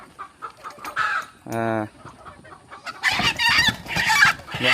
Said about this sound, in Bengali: দেখুন এই হচ্ছে মোরগ, দেশি মোরগ।